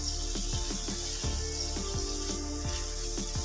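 Mutton liver stir-fried with spices in a pan, a steady close sizzle with repeated scraping strokes of a spatula at a regular rhythm, no voices.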